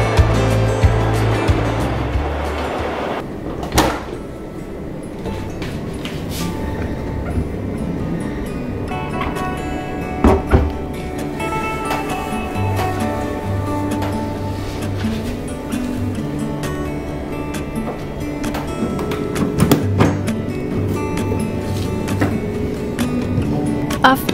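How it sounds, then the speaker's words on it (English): Washing machine running its self-clean program, a steady low churning hum with sloshing water and occasional clunks, continuing at moderate volume for the whole stretch. "the self-clean program on my washing machine. It's so well worth it."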